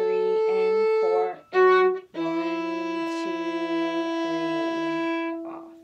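A violin plays a short measure of the hymn tune Goin' Home, bowed notes with a brief break early on, then sustained tones, close and clear with no talking.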